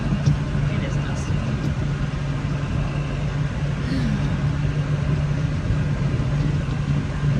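A tractor engine drones steadily and fairly close, with a low, unbroken hum throughout, while it plants corn in a dusty hay field.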